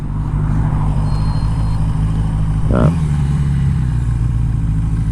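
A 1982 Yamaha Seca XJ650 motorcycle engine hums loud and close while riding in first gear, a steady drone that shifts abruptly in pitch partway through before settling again.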